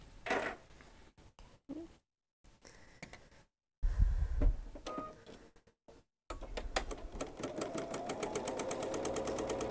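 A sewing machine stitches pieced quilt fabric, right sides together with nested seams, at a quarter-inch seam for a Shamrock Ridge quilt block. Brief handling noises come first, then a steady, close, rapid stitching rhythm runs through the final few seconds.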